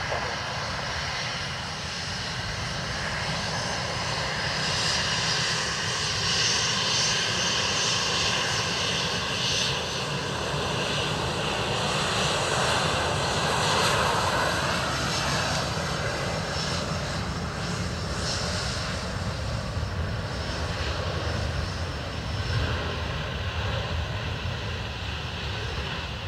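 Aircraft engines roar steadily at Dublin Airport, a broad continuous drone that swells slightly midway through, with no talk over it.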